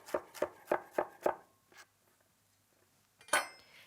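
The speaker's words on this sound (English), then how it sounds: "So we'll cut it into chunks first and then thinly slice it." Five quick, evenly spaced knife chops slice ginger on a cutting board, then a pause and one more louder cut. The sound is close and crisp with no talk.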